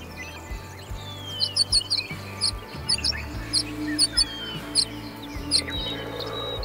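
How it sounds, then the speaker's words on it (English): Birds chirp repeatedly in the video game Way of the Hunter, with high, bright tweets sounding at a steady, regular rhythm over a low outdoor ambience and no voices. "Listen to all the sounds out there. Birds everywhere."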